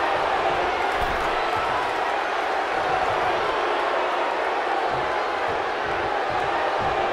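A raucous arena crowd in the WWE 2K19 wrestling video game cheers and roars steadily, a loud, dense wash of voices with no single voice standing out.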